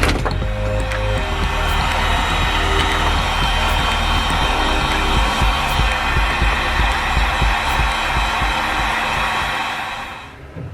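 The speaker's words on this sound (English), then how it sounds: "Get my heat gun and we'll heat these up." A heat gun warms the connections on a Speedway Motors wiring harness, giving a loud, close, continuous blowing whoosh with a steady hum that runs for about ten seconds before cutting off.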